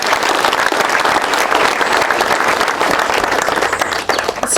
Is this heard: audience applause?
yes